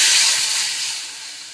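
A loud, sharp sizzle as water is poured over spices in hot oil, a bright hiss that gradually fades over a second or so.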